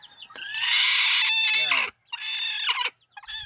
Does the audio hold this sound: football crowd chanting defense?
no